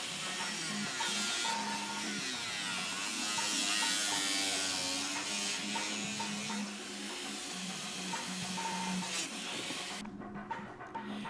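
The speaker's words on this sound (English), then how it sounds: "Time to start cutting the side panels away from the original bumper cover." A power cutting tool slices through a plastic FJ Cruiser bumper cover's side panels, giving a steady, loud buzzing whine that runs unbroken for several seconds before cutting off near the end.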